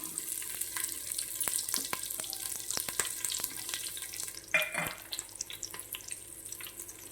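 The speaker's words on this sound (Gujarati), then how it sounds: "અને તેના પછી આપણે ડુંગળી અને લીલા મરચાં છે તે પણ આપણે તેમાં નાખી દઈશું" Chopped onions and green chillies hit a hot pan of oil for a cracked wheat and moong dal masala khichdi, giving a steady crackling sizzle with scattered pops and a brief louder splash of sizzling partway through.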